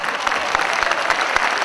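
Audience at a Forever Living India motivational event in Ahmedabad applauding, a loud, continuous crowd clap with quick rhythmic hand strikes standing out, no talk over it.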